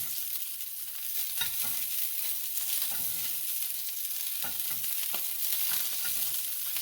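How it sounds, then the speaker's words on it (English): A salmon fillet sears skin-side down in a hot pan while hot oil is spooned over the skin, giving a steady, close, loud sizzle with small scraping stirs. No one talks. "just kind of hit the skin with some hot oil"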